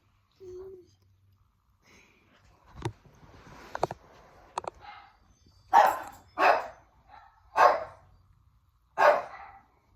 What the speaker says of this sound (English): Well, there are the dogs.